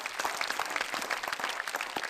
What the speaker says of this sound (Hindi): तो अपने अंदाज से जरा ताली बजाएंगे उनके लिए